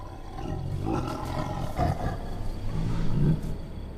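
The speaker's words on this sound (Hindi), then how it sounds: "लक्ष्मण ने भयंकर चीखों और दहाड़ों से गूंजते घने जंगल को देखा।" Wild animals roaring in a dense forest, rumbling low growls and roars rising and falling over a constant dark ambient bed, with no talking.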